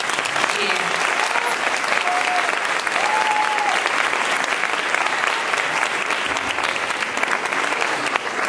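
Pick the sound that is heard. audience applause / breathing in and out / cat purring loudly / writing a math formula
audience applause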